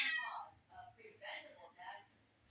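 Cat meowing in a house, a few short, high, whiny cries close by, with someone talking in the room.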